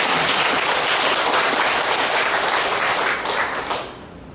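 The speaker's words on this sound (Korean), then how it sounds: "박수 부탁드리겠습니다" Congregation applauding during a church worship service, a dense, loud wash of clapping that holds steady for about three and a half seconds and then quickly fades.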